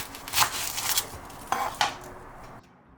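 Half an onion drops into a boiling crab pot, giving a few sharp clattering knocks and splashy clinks against the metal pot, close by and fairly loud, with quieter bubbling in between.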